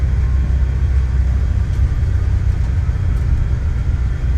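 Twin jet engines of a CRJ7 during a takeoff roll in the Aerosoft CRJ flight simulator, heard from a wing view as a steady, loud low rumble and roar that stays constant throughout.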